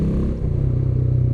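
A Honda RS150R motorcycle being ridden, its engine producing a loud, close, rhythmic thrum with some rattling clatter over a bumpy patch.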